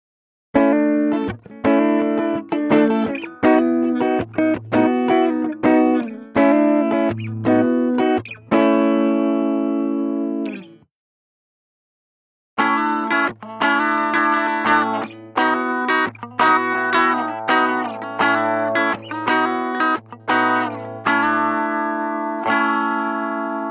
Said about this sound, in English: I'll play the guitar 2 humbuckers in phase like what would be normal. Then I'll switch to phase inverter and you'll hear the difference.